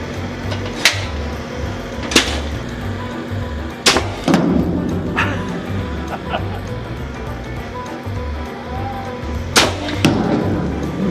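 Apple cannon firing apples at a farm pumpkin destruction event: several sharp, loud pneumatic bangs spaced a few seconds apart over steady outdoor background noise, with people talking nearby.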